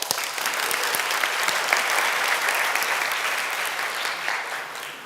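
A keynote audience at the STEG Business Platform Developer 25 event bursts into dense, even applause that holds steady and then begins to thin toward the end, with no talking over it.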